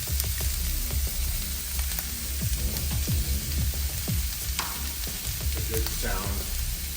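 Onions frying in olive oil in a pan, a steady close hiss and sizzle with scattered crackles and a few scraping stirs, going on throughout without talking.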